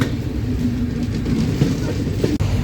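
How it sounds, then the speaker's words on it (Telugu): An Okha to Rameswaram express train passes close by with a steady loud rumble and rolling rail noise throughout, heard from a train waiting at the crossing. "ఓకా నుంచి రామేశ్వరం వెళ్ళే ఎక్స్ప్రెస్ ట్రైన్"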